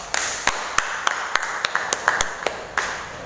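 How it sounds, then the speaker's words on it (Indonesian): Applause from a classroom of students for a group that has just presented, heard as a scattered run of sharp individual claps with gaps between them over roughly three seconds, fairly close and moderately loud. "Beri tepuk tangan kepada kelompok yang sudah maju kedua."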